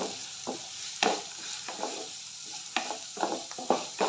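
Chopped curry leaves sizzling in a hot pan while cooking chicken cutlets, a steady close frying hiss with intermittent scraping stirs of a spoon against the pan, no voices.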